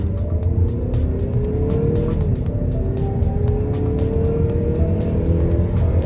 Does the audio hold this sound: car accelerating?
yes